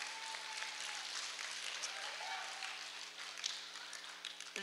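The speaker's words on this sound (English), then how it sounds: "So let's make sure we give her a round of applause for that." Applause fills an elementary school awards program, with a steady wash of clapping throughout and a steady band of hum beneath it.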